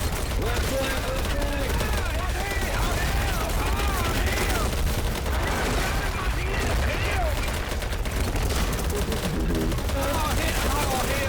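Dense, continuous gunfire from the video game BattleBit Remastered: rapid automatic bursts and overlapping shots form an unbroken loud barrage, with a voice shouting partly buried in the noise.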